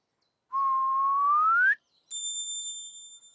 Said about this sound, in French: C'était un sifflement.